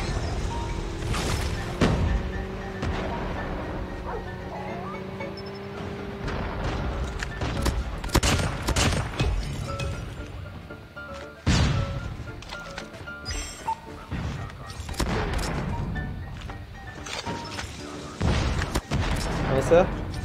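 Rapid bursts of gunfire from the SPD XPR in a tournament shooter match, sharp repeated shots in clusters with booming impacts, mixed with game noise and occasional talk.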